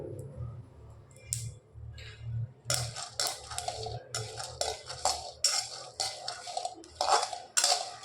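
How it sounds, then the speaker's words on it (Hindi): Dry crackling and rattling of peanuts roasting in a pan, with sharp irregular pops and clinks over a low hum. "चट्टे चट्टे की आवाज़ आ रही है मूंगफली से"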